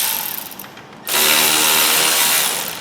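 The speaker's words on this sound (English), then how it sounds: "Just loosen that, and back off the adjuster bolt." Power tool loosening the alternator adjuster bolt on a Toyota Auris during a water pump job, a loud continuous whirring drill-like run that starts abruptly after a brief quieter buzz and holds steady.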